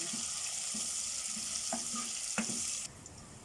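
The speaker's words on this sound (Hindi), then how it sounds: "और प्याज को गोल्डन होने तक हम फ्राई कर लेंगे।" Onions fry until golden for beetroot sabzi, making a steady hissing sizzle with a few small clinks and pops, before the hiss suddenly drops off near the end; nobody speaks.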